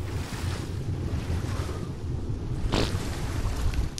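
Ocean surf and lapping waves in the survival game ARK: Survival Evolved, a steady wash of water with wind noise, and one brighter splash partway through.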